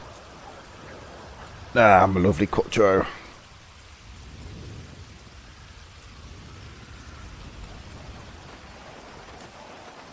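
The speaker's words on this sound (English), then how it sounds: "And it's fucking raining." Steady rain hisses throughout a rainy scene in the video game GTA V, with someone speaking briefly over the downpour early on.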